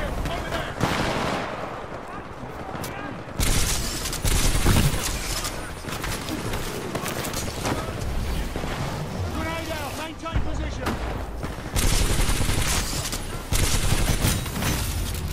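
Frag grenade blasts and rapid gunfire in a Titanfall 2 match rumble loudly and almost without pause, with heavy bursts hitting around the middle and again near the end, while players talk over the action.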